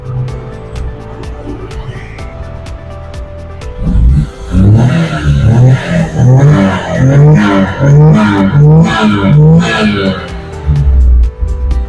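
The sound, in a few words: mini truck engine revving through exhaust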